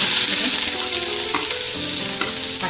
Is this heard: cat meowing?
no